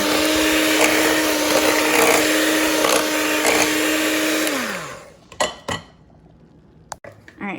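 A kitchen blender whirs loudly, mixing squash pie filling made from a white pumpkin, a steady motor whine that winds down after about four seconds, followed by clinks and clatter of the jar and utensils.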